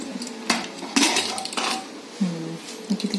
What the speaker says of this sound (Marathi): आता मी कुकर उघडते